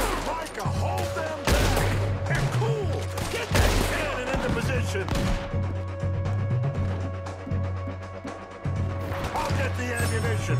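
Shootout gunfire in Red Dead Redemption 2, loud cracking shots fired in irregular bursts close by, with mechanical clatter and a low droning game score underneath.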